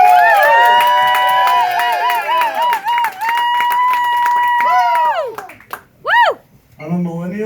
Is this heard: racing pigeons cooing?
no